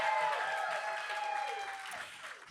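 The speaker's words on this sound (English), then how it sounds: "can we just all give a big round of applause?" A round of applause from the audience at a theatre talkback, soft and diffuse clapping that tapers off over a couple of seconds, partly blended with a sustained tone and room noise.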